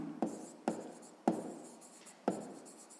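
Pen strokes on paper during a sixth-grade maths exercise, four short scratchy taps of writing spaced about half a second apart, close and fairly quiet with no talk.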